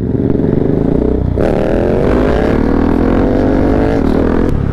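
Motorcycle riding along a road on a ride through the mountains, its engine droning steadily and loud throughout, with a shift in pitch partway as the rider changes speed.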